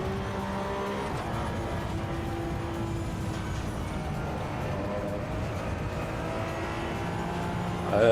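An Audi RS3 engine in the racing video game Assetto Corsa Evo hums steadily over a continuous low drone, pitch holding fairly level, with a sudden burst of louder noise at the very end.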